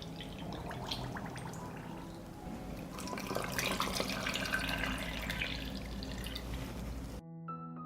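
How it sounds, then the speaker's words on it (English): Water running and splashing steadily from a tap as canning jars packed with peaches are filled to cover the fruit, a continuous close wash of liquid that stops abruptly near the end. "I will fill the jars with water to cover the peaches."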